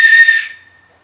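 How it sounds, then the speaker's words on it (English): A single sustained whistle produced by breathing into a covered bottle cap, bright and steady for about half a second before tapering off into a faint fading tone. "you're going to breathe into it, and that's going to create a whistle"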